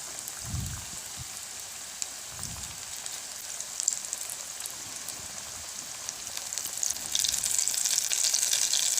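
Bitter gourd chips frying in hot oil, a steady crackling sizzle that grows denser and louder toward the end, with a few low soft thumps early on as slices are dropped in.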